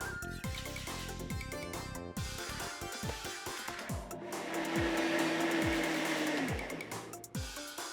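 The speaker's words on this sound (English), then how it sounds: "We're going to chop into pieces and blend." A blender whirs steadily as it purees chopped melon, the motor pitch rising and falling with the load, a continuous loud grinding that holds for the whole stretch.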